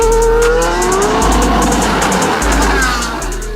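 A race car capable of about 200 miles an hour revs hard and accelerates, its loud engine note climbing and holding steady across the clip, close and dominant with no talk over it.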